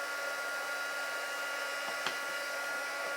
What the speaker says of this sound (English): I'm just going to get my heater, so it's going to be a bit noisy, I'm afraid.